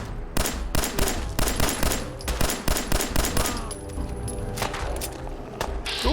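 Rapid bursts of gunfire from a firefight in the video game Fallout 4, sharp repeated shots in uneven clusters, loud and close, with brief gaps between volleys.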